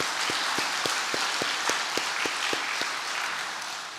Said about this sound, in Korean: 하나님께 영광의 박수 하겠습니다.